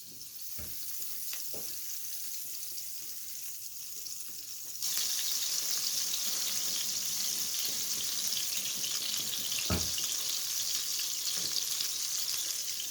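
Two tablespoons of butter sizzle and crackle steadily in a pot, growing louder partway through, with a few soft clinks and thuds of utensils nearby.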